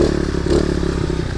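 A Chinese pit bike running on its stock exhaust, a close, steady, rough engine drone with some clattering mechanical noise, no talking.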